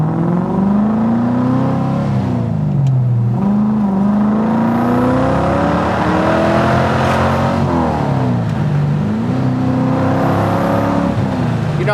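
A Datsun 240Z restomod engine pulling hard under part throttle while driving, its loud, close drone rising in pitch through several gear pulls with brief dips between shifts, steady and continuous.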